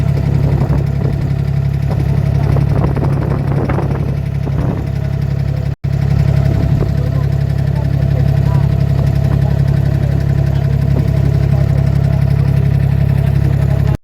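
A boat engine runs on a water crossing in Dubai, a loud, steady low droning hum that continues unbroken apart from one brief dropout.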